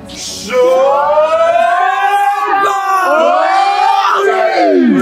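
Group of students in a Koh-Lanta-style team game shouting war cries together, loud rising and falling yells from many voices that blend into a long chanted roar, close and sustained.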